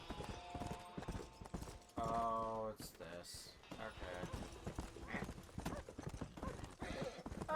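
Horse hooves clip-clop in steady, rapid rhythm during Red Dead Redemption gameplay, with game sounds mixed in and quiet voices in the background.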